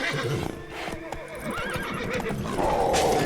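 Roach, the horse in The Witcher 3, neighs loudly and close with a whinny that rises and falls, mixed with hoof clip-clops and game-battle noise.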